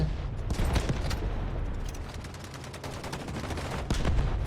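Rapid gunfire bursts crackle in the Delta Force video game, with dense overlapping shots and scattered sharp reports sounding steadily through the whole stretch, some bursts louder and closer than others.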